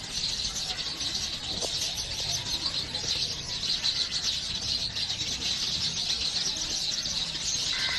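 Dense chorus of sparrows and parrots chirping steadily in a large neem tree beside a house window at six o'clock, a continuous bright twittering wash with no talk.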